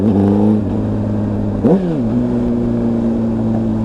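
Honda CBR600RR sport motorcycle with an aftermarket exhaust can, loud and close, holding a steady high idle, then a sharp blip that rises and falls before settling back to an even drone.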